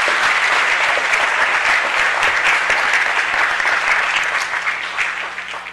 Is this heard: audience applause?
yes